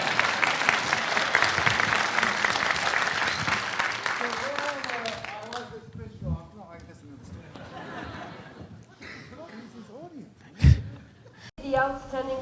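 Brief burst of applause from an audience at a cinematography masterclass, mixed with chatter and some chuckling, giving way to scattered talking voices and a few loud knocks near the end.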